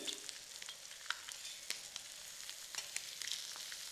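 Eggs sizzle and fry on a hot tawa while being flipped, a steady crackling sizzle broken by scattered sharp pops and spatula scrapes at close range, with no voices.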